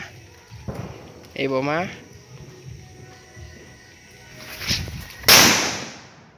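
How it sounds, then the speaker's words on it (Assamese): A Diwali firecracker bomb bursts outdoors after rain with one sharp, loud bang near the end. Earlier there is a brief voice and faint shuffling. "এতিয়া মই বোমা মাৰোঁ।"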